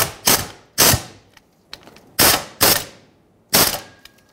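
Catalytic converter bolts on a 2008-2020 Dodge Grand Caravan being tightened, heard as five loud, sharp ratcheting bursts separated by short pauses, with a few fainter clicks in between.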